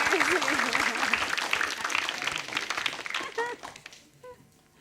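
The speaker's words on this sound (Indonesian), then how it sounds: "Hadirin mohon tepuk tangan untuk Mbak Herlina Effendi." Studio audience applause on an Indonesian television show, loud and dense at first with voices over it, then thinning out and fading away toward the end.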